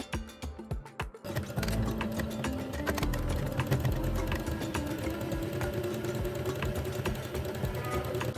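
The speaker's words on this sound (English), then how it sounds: "Top stitch the pressed hem." A sewing machine top-stitches the pressed hem of a kimono jacket, starting with a few short, hesitant bursts, then settling into a loud, continuous, rapid mechanical chatter close by, with no voices.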